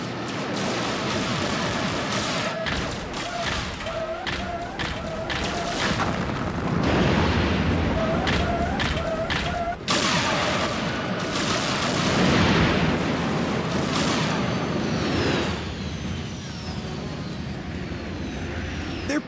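Weapons fire and explosions in an Exosquad animated battle: loud bursts and blasts over a roaring aircraft-like drone, with short shouted voices between them.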